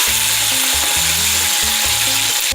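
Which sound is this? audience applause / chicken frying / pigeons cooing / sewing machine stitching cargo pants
chicken frying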